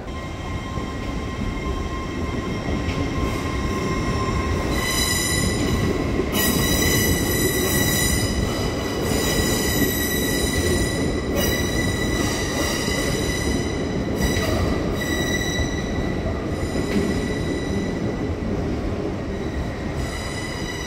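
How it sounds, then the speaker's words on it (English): An LNER Azuma train rolls into a station platform on a diverted Newcastle to Edinburgh service. A loud, steady rumble of wheels on rails carries high, sustained squeals and rhythmic clicks throughout the twenty seconds, with no talking. "And here comes my LNER Azuma we're going to be taking today."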